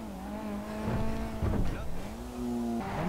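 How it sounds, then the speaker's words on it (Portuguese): The Blista Go Go Monkey sports car's engine in GTA V drones steadily at a low pitch, its tone sliding up and down as it revs, with some mechanical clatter midway. "Vamos ver o barulho dele, o ronco dele."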